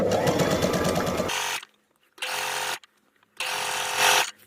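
A sewing machine stitching the side seams of ladies' trousers runs in three loud close bursts, the first long and rattling, separated by brief silences.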